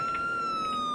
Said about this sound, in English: we turn off the sirens